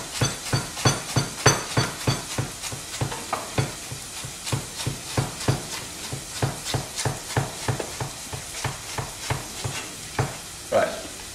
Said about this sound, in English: So we want to cut this nice and finely